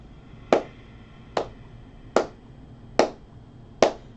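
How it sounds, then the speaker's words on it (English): An instructor claps five times during a chair yoga class, each sharp clap evenly spaced about a second apart, close and clear against a quiet room with no talking. "I'll do all the clapping."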